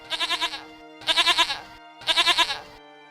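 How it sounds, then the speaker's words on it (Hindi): A goat bleats three times in quick succession, each a loud, close, wavering call with evenly spaced pauses between them. "अचानक मेरे मुंह से बकरे की आवाज आने लगी"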